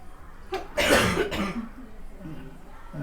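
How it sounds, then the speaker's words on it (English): People coughing indoors, a few rough bursts clustered near the middle, fairly close and moderately loud, followed by quieter low murmuring. "Everyone's got a cough. Everyone's coughing."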